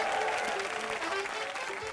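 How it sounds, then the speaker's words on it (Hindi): Studio audience applause on an Indian TV comedy show, a steady, dense wash of clapping that holds at an even level throughout, with faint voices mixed in. "जोरदार तालियां हो जाएं"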